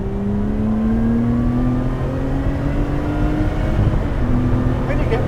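Lotus Exige Sport 410 on track at Goodwood motor circuit at wide open throttle, a loud in-cabin engine drone rising steadily in pitch as it accelerates, then a brief dip and climb again.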